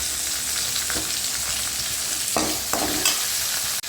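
Tomato and onion sizzle steadily in a pan while cooking for radish sambar, a continuous close frying hiss with a few brief stirring scrapes and no talk.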